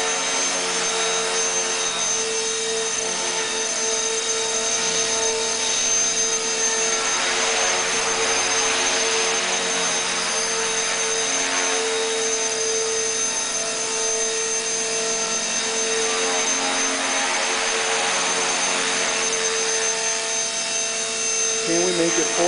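An E-Flite Blade 400 RC helicopter flies nearby with a steady, loud electric whine and rotor hum, holding a constant pitch throughout.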